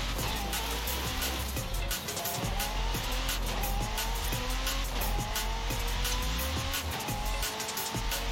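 A race car in Forza Horizon 5 drives at high speed, its engine droning loud and steady as it rises through repeated gear shifts, with tires squealing throughout and no talking.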